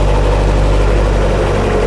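A Scammell Scarab truck engine runs steadily at raised revs, a loud, close, continuous low mechanical drone with a constant hum and no talking over it.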